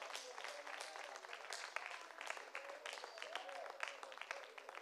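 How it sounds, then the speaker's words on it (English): A church congregation claps along in dense, steady rhythm during a worship service, with a voice singing or speaking over the clapping throughout. "Clap your hands to him."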